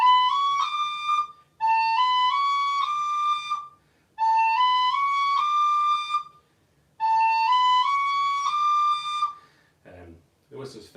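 A tin whistle plays four short runs of rising notes, separated by brief pauses. The notes are clear and close, and a short noise is heard at the end.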